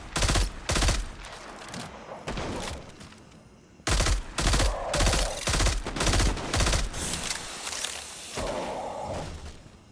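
Pulse rifle fire from Destiny 2 comes in rapid loud bursts of close gunshots, a short pause around the middle, then more bursts and a lingering whooshing tail.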